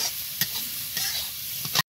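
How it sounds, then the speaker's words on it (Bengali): Grated carrot fries in ghee with a dense, close sizzle, and a spoon stirring and scraping through it every half second or so, over a short stretch with no voices. "তো গাজরটা ঘিয়ে এইভাবে ভালো করে ভেজে নিব।"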